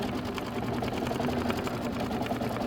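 An embroidery machine stitches out a Kimberbell Hello Sunshine design, its needle chattering in a fast, steady mechanical rhythm with a constant motor hum, close and continuous throughout.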